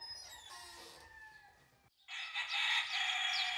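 Roosters at a fighting-cock house in Teguise, Lanzarote, crow loudly and cluck, a drawn-out crow first, then a brief pause, then a second, louder and denser burst of crowing close by.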